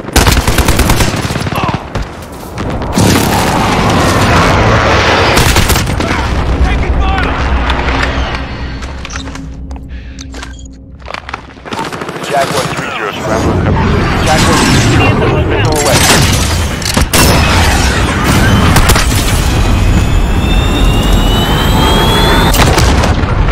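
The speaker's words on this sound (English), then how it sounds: "Friendly position airstrike inbound." Heavy airstrike barrage in Call of Duty Modern Warfare, a loud, dense rumble of explosions and gunfire that fills nearly the whole stretch, easing briefly midway before crashing back in, with a voice heard over the din.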